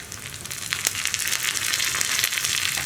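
Dried red chillies and curry leaves fry in hot oil for a green gram and coconut milk curry, giving a close, lively crackle and spitting sizzle that builds and stays loud.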